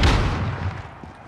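A stun grenade in Warzone goes off as a single heavy, booming blast, close and loud, with a deep rumble that quickly dies away.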